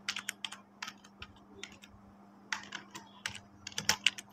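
Keys on a computer keyboard are tapped out in short irregular bursts while a name is entered into an online tax information form, close and clear over a faint steady hum, with no talking.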